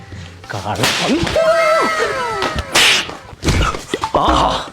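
Sharp firecracker bangs burst out a few times amid excited voices, each crack loud and close, with chatter filling the gaps.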